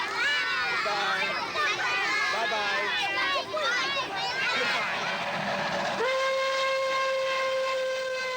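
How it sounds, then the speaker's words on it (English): A steam locomotive pulling an Orient Express train in Romania in 1983, running with rhythmic chugging and a loud, sustained steam whistle near the end, a voice speaking over the noise. "And for the second time on the journey, we're being pulled by steam."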